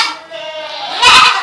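Goats in a tiled goat house with ventilation bleat loudly and close by, one drawn-out wavering call swelling into a stronger cry near the end, heard over a busy, reverberant background.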